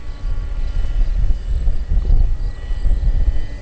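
Hobby King Sky Eye R/C airplane motor in flight outdoors, heard as a faint, distant buzz under a rough, gusty low rumble that surges and fades throughout.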